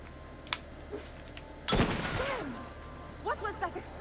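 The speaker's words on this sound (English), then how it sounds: "What was that explosion?" A single loud explosion bursts out in the video game Assassin's Creed Revelations, a broad booming blast that trails off over about a second, with faint game sounds before it and some short tonal effects after.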